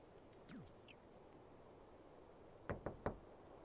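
Three quick knocks on a door in The Sims video game, crisp and close, following a few faint synthetic chirps over a quiet hiss.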